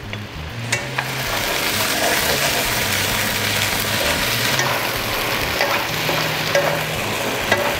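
Vegetables stir-fried with dried tofu and sauce in a pan, giving a steady close sizzle with scattered clinks and stirring scrapes and a low background hum.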